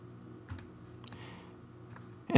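A handful of sparse, quiet keystrokes on a computer keyboard while working in the Unreal Engine 4 editor, spaced over a low room hum and ending in a louder thump.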